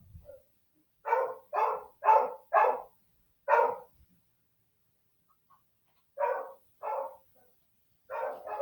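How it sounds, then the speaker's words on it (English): Close, clear barking from a pet dog comes in an even run of four quick barks and one more, then after a long silence two more and a last pair, with no talking. "Again, that is my dog."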